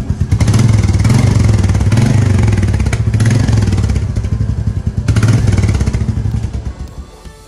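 A Royal Enfield Meteor 350 motorcycle engine running loud and close, with a throaty stock exhaust note that rises and falls over several revs before easing off.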